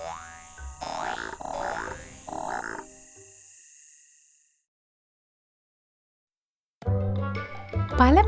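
A frog croaks in a children's animal-names lesson: three bouncy, cartoon-like croaks in quick succession, then silence, then a brief voice at the end.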